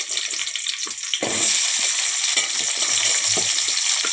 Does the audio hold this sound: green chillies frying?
yes